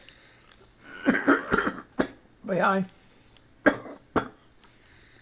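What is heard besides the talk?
cough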